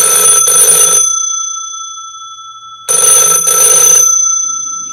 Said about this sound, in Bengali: হঠাৎ দমকলের মতো জোরে জোরে টেলিফোনেই ঘন্টাটা বাজল